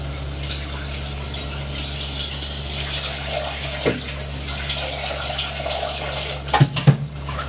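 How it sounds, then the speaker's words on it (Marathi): Water pours into a cooking pot while making egg masala khichdi, a continuous steady gush at moderate level that ends in a few splashy bursts. "आणि आता आपण टाकूया पाणी."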